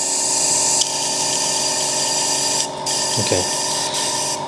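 Water being flushed through an Iwata HP CS Eclipse airbrush gives a loud, continuous hissing spray with a whining compressor-like hum, briefly cutting out and resuming, with one short spoken word over it.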